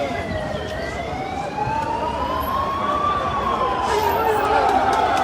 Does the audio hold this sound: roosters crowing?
no